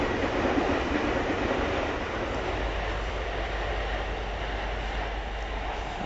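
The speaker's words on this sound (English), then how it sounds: "A helicopter." A helicopter passes overhead at night, heard as a steady broadband rotor and engine rumble that holds even and fairly loud throughout with no voices.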